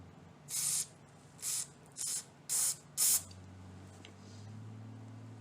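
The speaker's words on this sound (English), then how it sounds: "Okay, I'll spray them off," Short bursts from an aerosol spray can or air nozzle clean off Kawasaki Ninja 250R motorcycle parts, five evenly spaced hissing blasts close to the mic, followed by a low steady hum.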